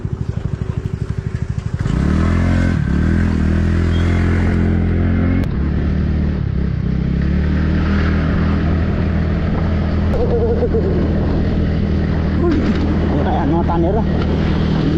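A motorcycle engine strains up a steep climb, its loud, steady drone holding a low labouring tone after a brief rough start, with a rider's voice heard faintly over it.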